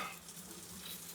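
Aubergine frying in a frying pan, a faint, steady soft sizzle heard briefly with no voices.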